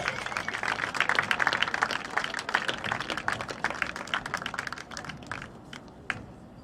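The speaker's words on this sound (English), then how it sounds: "Let's have a nice round of applause." Scattered, crisp claps from a crowd at a Section 8A boys lacrosse championship ceremony, dense at first and then thinning out toward the end.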